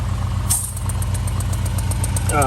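A Honda car engine idles steadily with a rhythmic low chugging pulse while rigged as an air compressor to fill a flat tire, close and continuous, with faint beeping tones and brief speech in the background.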